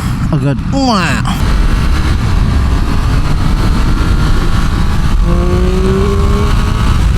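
A 2024 Triumph Speed Triple RS, a liter-class naked motorcycle, pulls hard on a short straight, its engine note loud and close as it rises through the revs, with a gear change and a climbing pitch near the end and a voice over it early on.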